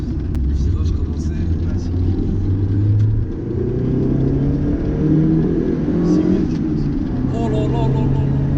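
Lancia Delta Integrale engine pulling hard through the gears, a loud steady rumble rising in pitch with a shift near the middle, heard from inside the cabin while a person speaks over it.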